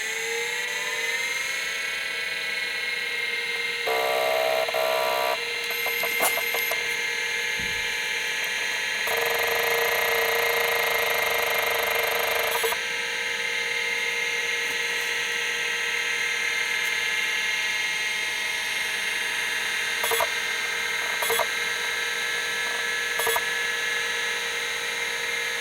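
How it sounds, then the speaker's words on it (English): Seagate ST-251N SCSI hard drive with its stepper motor running, a steady close whine with layered tones held for the whole stretch, shifting pitch in a few spots and broken by brief clicks near the end. "Yeah, so the stepper motor's working."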